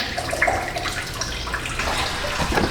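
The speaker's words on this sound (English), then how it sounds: "the whole petcock's gonna come out and then spill all over" Coolant draining from the radiator petcock of a Chrysler Town and Country into a drain pan, a steady close trickling and splashing stream with faint clinks, no talking.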